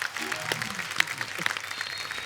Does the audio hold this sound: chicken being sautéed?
no